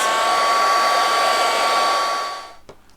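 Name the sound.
heat gun drying paint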